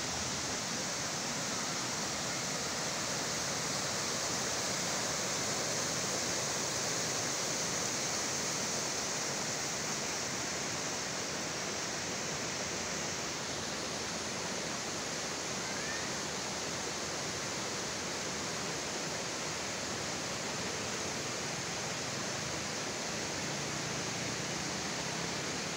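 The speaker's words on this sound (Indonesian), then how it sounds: "Nah ini sungai di pinggirannya." River flowing beside a camp at Pondok Halimun, a steady broadband rush of water running close and continuous throughout, with no voices.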